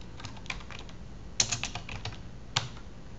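Name typed on a computer keyboard, a short burst of close light key taps with a couple of louder strikes, no voice over it.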